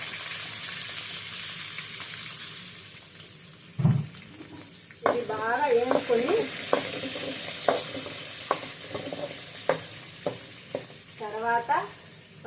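Onions with garlic and cumin drop into hot oil in a pan for a tamarind chutney, giving a steady close sizzle with occasional stirring and scraping, while a voice speaks intermittently.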